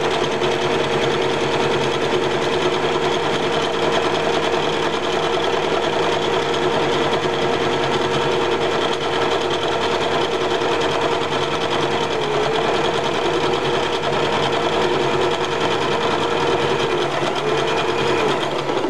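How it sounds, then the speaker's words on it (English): A sewing machine runs continuously, close and steady, doing a zigzag stitch on apron fabric with a fast, even whirring rhythm and no talking. "you want to do a zigzag stitch, because the frays right here, you don't want it to like come out"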